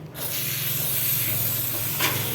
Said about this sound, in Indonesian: Throttle bodinya kita semprot-semprot dulu